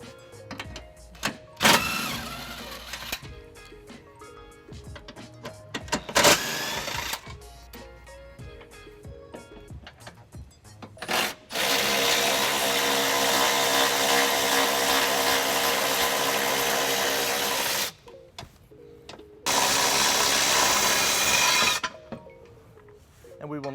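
An impact tool zips out the tow hook bolts on a 2021 Infiniti QX60 with an 18mm socket, long loud sustained whirring bursts broken by short stops and clanks, close by.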